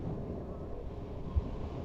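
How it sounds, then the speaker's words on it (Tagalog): Strong wind buffets the microphone during a night ride on a Honda XRM 125 Fi motorcycle near Bitbit River in Norzagaray, Bulacan, a steady low roar with a brief gust thump partway through and no talking. "Ang lakas ng hangin, no?"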